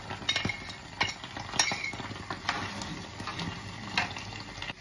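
Tofu stirred with salted egg white in a pan gives light scraping and metallic clinks of a utensil, with a soft sizzle underneath throughout.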